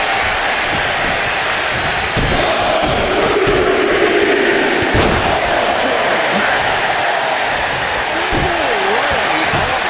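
Arena crowd noise from the WWE 2K25 wrestling video game, a steady loud roar of cheering throughout with commentary voices over it.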